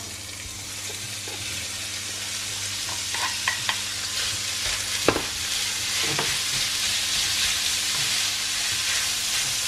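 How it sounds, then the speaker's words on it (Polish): Beef sizzles in a pan with garlic and ginger, a steady close hiss of frying broken by a few soft stirring scrapes and clicks. "I będzie trzeba wołowinę obsmażać do momentu, aż całość nie zmieni koloru"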